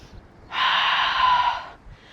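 A single long, deep breath during a Pilates class, a soft airy rush rising after a short pause, holding steady for about a second, then fading back to quiet.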